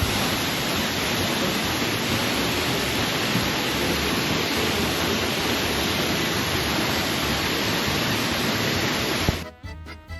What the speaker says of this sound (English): definitely see the beauty of this waterfall